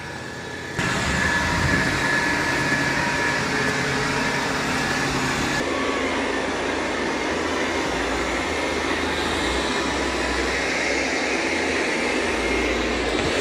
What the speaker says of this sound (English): it's doing a really good job of vacuuming